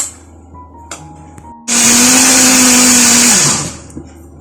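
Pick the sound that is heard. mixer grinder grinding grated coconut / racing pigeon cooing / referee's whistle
mixer grinder grinding grated coconut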